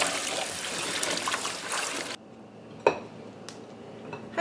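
Green beans are rinsed in a bowl of water, with a dense splashing trickle that stops suddenly, followed by a few light clinks of a dish or pan in a quiet kitchen.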